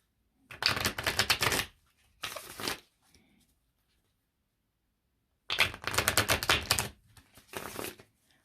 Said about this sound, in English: I want to throw some more cards down